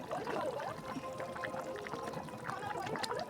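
Water pours into a pot of chicken curry, a soft, faint, continuous splashing and trickle lasting a few seconds with no voices.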